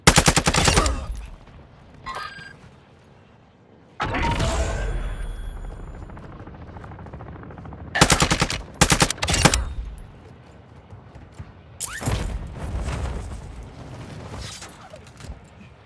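Machine gun fire in the Call of Duty DMZ video game, several loud bursts of rapid automatic fire with quieter gaps and a faint voice in between.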